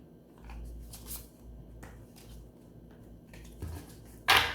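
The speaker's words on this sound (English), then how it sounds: "Let me just shuffle these up." Tarot cards are shuffled close by in quiet, intermittent bursts of riffling and slapping. A sharper rustle comes near the end, and there is no talking.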